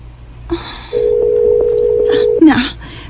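A cellphone number being dialed: a few soft key clicks, then a steady electronic phone tone held for about a second and a half, ending in a brief burst of handling noise and clicks. No voices.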